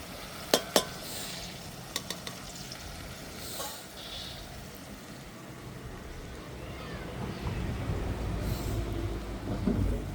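Chili masala sizzles steadily in a pan with spoon scrapes and a few sharp clicks early on, the frying hiss swelling slightly toward the end; a quiet, close cooking sound with no talking.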